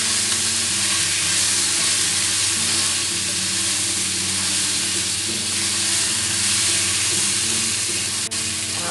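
Chicken pieces fry and sizzle with spices in a hot pan, a loud steady hiss with scraping stirring underneath throughout, no talking.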